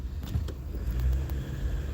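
A car rolls downhill through a residential neighbourhood, its low engine rumble and road noise steady and close, like sound heard from inside the cabin, with no voices over it.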